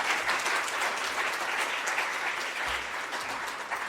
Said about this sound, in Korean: 자, 남은 일정 잘 마치도록 격려 박수하겠습니다.